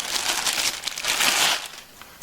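A plastic bag holding a Cub Cadet mower deck spindle assembly crinkles loudly and continuously up close, a busy rustle that eases briefly near the end before one last crackle.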